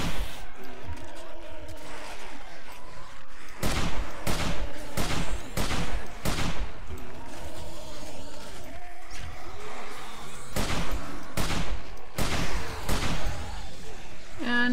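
Rapid gunfire from a zombie horde-night battle in the survival game 7 Days to Die, sharp shots in quick bursts over a dense, busy game backdrop, fairly loud and continuous.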